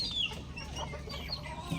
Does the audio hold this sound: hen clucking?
yes